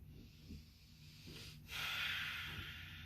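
A single breath drawn out through the nose during a yoga session, a soft airy rush with a faint snort, alone and close, after a couple of quieter breaths.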